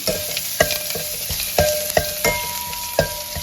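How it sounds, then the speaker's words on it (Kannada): Garlic sizzles in hot oil for a sambar tempering, with a steady close crackle and a spoon knocking and scraping against the pan in a loose rhythm of distinct taps. No one speaks. "ಇದನ್ನು ಒಗ್ಗರಣೆ ಹಾಕೋಣ"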